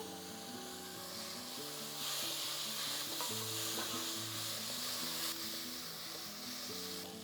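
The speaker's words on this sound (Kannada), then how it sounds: "ಇದು ಸ್ವಲ್ಪ ಫ್ರೈ ಆಗಿದ್ದೆ ಇದಕ್ಕೆ ಟೊಮೆಟೊವನ್ನು ಹಾಕಿ ಒಂದು ಐದು ಟೊಮೆಟೊವನ್ನು ಹಾಕಿ" Tomatoes fry with garam masala in a pan, a soft, steady sizzle with some stirring, faint and mixed under background music throughout.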